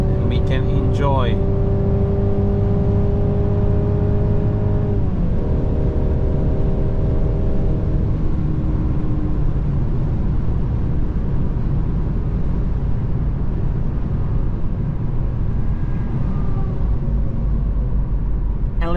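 Mercedes C-Class cruising on the German Autobahn, a constant loud road and engine rumble from inside the car with a voice speaking over it.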